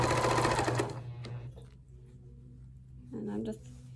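A sewing machine stitches fabric in a fast, loud burst of rattling, goes quiet, then runs again in a shorter burst near the end, with a steady hum underneath.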